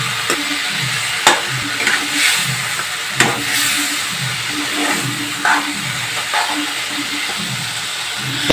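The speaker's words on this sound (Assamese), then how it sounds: "লৰাই মই ভাজি থাকিম।" Jackfruit seeds frying in oily spice mixture in a pan, a steady sizzle and hiss with periodic scraping stirs and sharp utensil knocks against the pan.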